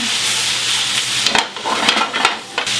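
Onions being stirred and turned in a hot pan for Flemish carbonnade, a steady close sizzle broken by several sharp scraping strokes of the utensil against the pan.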